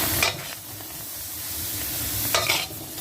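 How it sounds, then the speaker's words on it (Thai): June beetles dry-roasting with salt in a pan: a continuous soft rattling and scraping of stirring, with two brief louder scrapes near the start and end, close by and without voices. "ล้างน้ำแล้วก็เอามาขัวเนาะพี่น้องจ้า"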